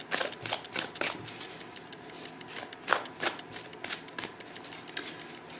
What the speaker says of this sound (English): we will start here with your tarot, and then we will open up these oracle cards for you